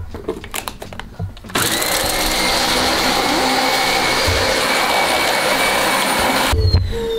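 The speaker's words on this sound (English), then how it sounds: "So I guess she didn't want to bark at the vacuum." After a few quiet knocks, a vacuum cleaner roars to life, runs with a loud steady whine for several seconds, then cuts off.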